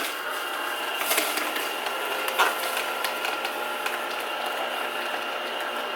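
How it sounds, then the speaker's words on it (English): Kuvings B6000S slow juicer crushing and grinding apple pieces, a steady mechanical churning hum with irregular cracking and crunching snaps, two louder crunches standing out early on. "It even sounds like the machine is eating the apple"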